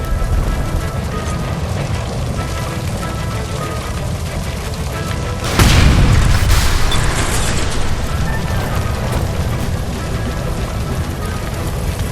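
A gas line by a stove exploding in L.A. Noire, a single loud boom and burst about halfway through, heard over constant rumbling game ambience.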